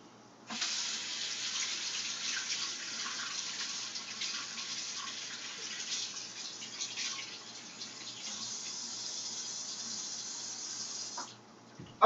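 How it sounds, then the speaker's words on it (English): Serrano and jalapeno peppers rinsed under a running kitchen tap, a steady hiss of flowing water that starts abruptly, runs for about ten seconds with slight splashing changes, then stops. "Be sure to rinse your peppers off"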